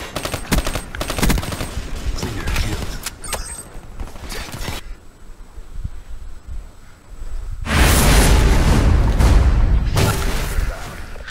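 Man O' War assault rifle firing in Black Ops 3, loud dense bursts of automatic gunfire at the start, a quieter gap with mechanical clicks, then a sustained loud roar of fire and action toward the end.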